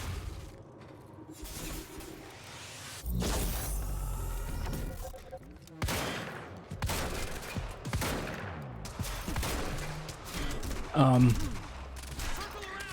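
Gunshots in Quantum Break, sharp separate shots and short bursts with booming impacts and some crashing debris, loud and close, spread unevenly with quieter gaps between volleys.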